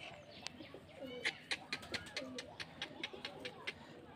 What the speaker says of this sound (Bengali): সরষে দেওয়ার মাত্র দিছে অমনি দেখেন কবুতরগুলো সব ছটফট করে খাচ্ছে